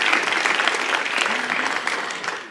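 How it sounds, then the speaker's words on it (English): An audience at a science speed-talk event gives a short burst of steady, dense applause, loud and close, with no break in the clapping. "A round of applause."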